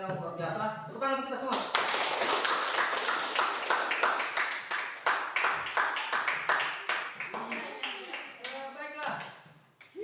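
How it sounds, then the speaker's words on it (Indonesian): A classroom of students breaks into applause, a dense burst of many hands clapping that swells quickly and then tapers off, with scattered claps and a few voices near the end. "Tepuk tangan kita semua."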